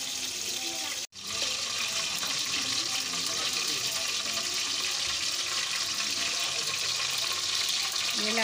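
Green cardamom seeds frying in hot ghee in a pot for chana dal halwa, giving a continuous bright sizzle that holds steady throughout, close by, with a brief dropout near the start.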